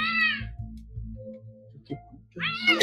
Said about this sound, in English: Naging violento yung pusa.